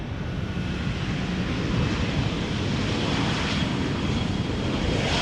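A Vueling airliner just after landing at Schiphol Airport, its engines giving a loud, steady broadband roar and rush that sounds close and fills the whole stretch with no talking.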